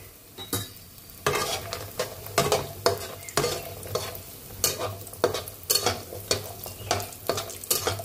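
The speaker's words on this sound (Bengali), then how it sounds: "এই তেলটার ভিতরে আমি আগে বড়িটা ভেজে নেব" Bori lentil dumplings fry in hot oil in a pan, a steady close sizzle with repeated scraping stirs and light clinks of a spatula against the pan, no voices.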